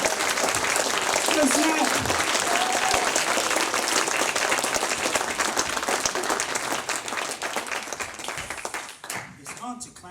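Theatre audience applauds loudly and steadily after a folk song at an album launch in the Grove Theatre, Eastbourne; dense clapping fills the clip, with a voice speaking briefly near the end as the clapping thins.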